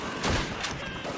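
Gunfire in the World War II shooter game Call of Duty 2, a brief burst of shots with a couple of sharp cracks over a steady battle din.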